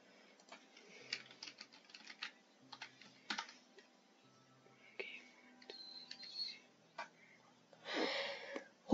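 Irregular bursts of computer keyboard typing during Minecraft play, quick clicky keystrokes in uneven runs with short pauses, close and fairly quiet, ending in a brief louder rustle.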